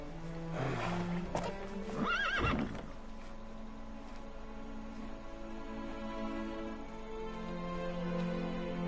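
A horse in the Lego Hobbit video game whinnies loudly with a rising, quavering neigh, followed by snorts and a steady soft background drone.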